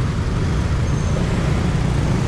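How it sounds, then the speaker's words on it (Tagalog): Morning road traffic on East Service Road in Bicutan, Philippines, with motorcycles and other vehicles: a constant low rumble of engines close by, steady and unbroken, with no voices over it. "Ayan, worst traffic dito talaga."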